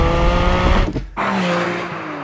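A Porsche 718 Spyder with a 4-litre naturally aspirated flat-six sounds loud and close, with a steady engine roar, a brief dip in the middle and then a sustained drone.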